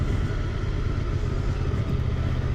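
A Moto 800NK naked motorcycle being ridden gives a steady low engine rumble mixed with road and wind noise, continuous and fairly close, with no talk.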